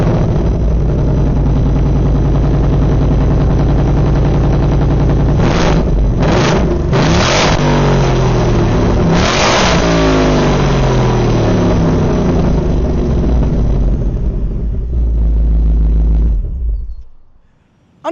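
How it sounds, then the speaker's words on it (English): A 2024 Ford Mustang GT's 5-liter naturally aspirated Coyote V8 with active valve performance exhaust idles with a deep rumble, then revs hard several times in loud rising bursts before settling and cutting off near the end. "this vehicle is equipped with the active valve performance exhaust"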